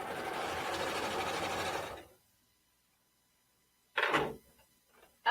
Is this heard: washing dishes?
no